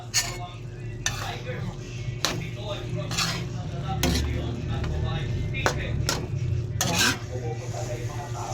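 Eggs cook with ground pork in a pan, with a steady sizzle under repeated sharp clacks and scrapes of a utensil against the pan.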